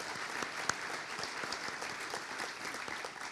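Audience applause at an annual meeting and awards presentation, a steady dense wash of clapping from a large crowd throughout, even in level with one sharper clap standing out.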